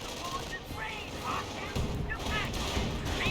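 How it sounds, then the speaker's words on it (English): Strafing-run gunfire in Company of Heroes, faint bursts of shots and distant rumbling impacts in a battle soundscape, low in level with no clear foreground. "getting some good strafing hits there"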